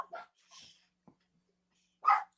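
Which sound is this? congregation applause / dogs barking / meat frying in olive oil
dogs barking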